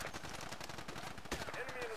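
Gunfire from the video game Battlefield 2, a rapid burst of loud automatic shots crackling close by in a dense, continuous stream for two seconds.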